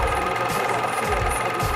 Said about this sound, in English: Now I'm just sewing, serging, oh my god, the raw edges so they don't fray.